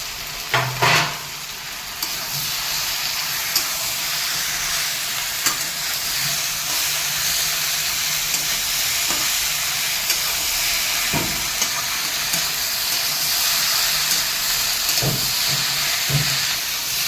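A ground spice paste of cumin, chili, black pepper, ginger and dried red chili fries in a pan for a fish curry, with a steady sizzle and hiss broken by occasional scraping stirs close by.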